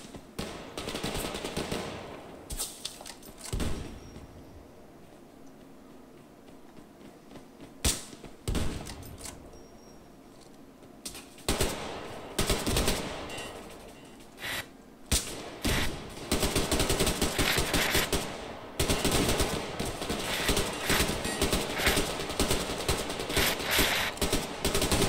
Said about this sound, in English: It's time to use the actual gun.